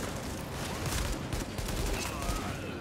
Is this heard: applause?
no